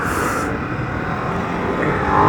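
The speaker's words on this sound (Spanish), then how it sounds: "El sonido de la admisión cuando le das" A loud, steady Ducati DesertX motorcycle engine roar fills the whole stretch, swelling slightly near the end as if the throttle opens, with a broad rushing intake tone.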